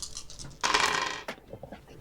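Dice rolled during a tabletop role-playing game, a short burst of clattering and rattling as many dice tumble together, followed by a few scattered clicks as they settle, close and moderately loud.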